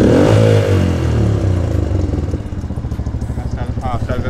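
A motorcycle engine revs hard after its air-fuel mixture has been adjusted, then falls back to a steady, rapid idle thump, loud and close with no talk over it.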